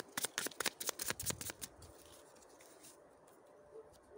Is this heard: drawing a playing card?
yes